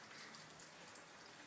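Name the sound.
heavy rain falling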